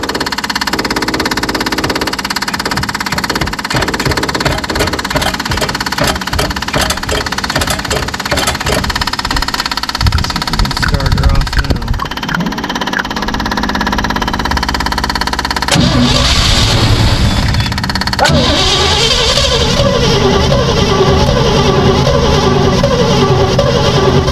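A 1956 Chevy engine cranks over with a steady starter rhythm, then catches and fires up, settling into a loud, close idle with occasional revs and brief voices in the background.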